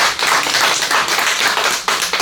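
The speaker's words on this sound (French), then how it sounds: "Alors, on peut l'applaudir." A crowd at a closing event claps in a dense, continuous burst of applause, close and fairly loud, with no talking.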